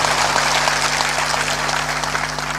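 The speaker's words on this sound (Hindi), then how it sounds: "तालियां इतनी कमजोर क्यों बजाते हो?" An audience at a spiritual discourse by a Hindu saint claps throughout, dense steady applause from a large crowd that stays loud and even without speech.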